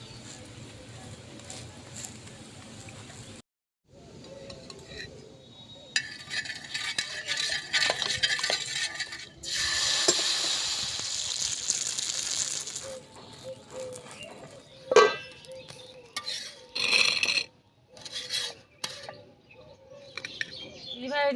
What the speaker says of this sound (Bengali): এবার উল্টি পাল্টিয়ে ভালোভাবে একটু সেঁকে নেবো